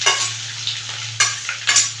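Chopped garlic and ginger sauté in a pan for tomato pickle, giving a bright continuous sizzle with a few quick stirring scrapes, close up and with no talking.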